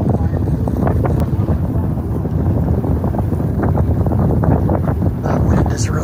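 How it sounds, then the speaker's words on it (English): Strong wind roars steadily outdoors near Chambers Lake, Colorado, buffeting the microphone with a loud, continuous rumble and gusty hiss throughout. "That wind is really blowing."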